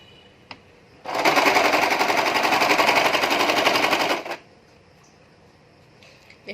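A sewing machine runs in one steady, fast burst of about three seconds while stitching a princess-cut nighty, loud and close, with quiet room sound before and after.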